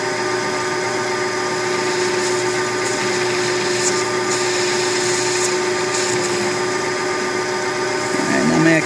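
A machine tool takes an 80-thousandths cut on a metal drum lug, a steady, loud, close whine with a constant tone and a slight rise near the end, while someone talks.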